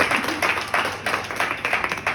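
Audience applause in a Hindi-speaking gathering, steady clapping from many hands with rhythmic swells lasting throughout, fairly close and full, no talk over it.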